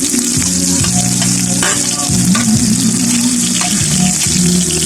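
Garlic and red onion frying hard in oil for dinuguan make a loud, dense, continuous sizzle close by, with a background hum that wavers; no one talks.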